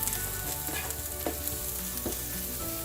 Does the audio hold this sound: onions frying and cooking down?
yes